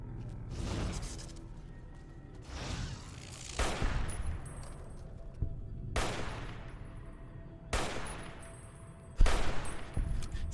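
Gunfire in the video game Fallout New Vegas: a series of loud, sharp shots and short bursts at irregular intervals, each blast ringing out with a fading tail.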